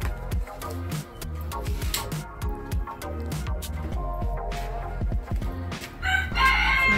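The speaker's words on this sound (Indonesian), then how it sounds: "Kita kasihkan ke unggas-unggas hias yang ada di kandang saya." Ornamental chickens in a coop being fed ground rice and corn, with roosters crowing repeatedly over busy clucking and scratching; the flock is close and fairly loud, with calls overlapping throughout.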